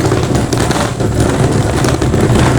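A loud, rumbling truck engine runs steadily nearby, rough and crackling with no voices.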